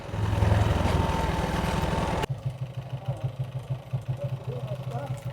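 Motorbike engine idling with a steady low throb after a louder revving stretch cuts off abruptly, running close and continuous under background noise.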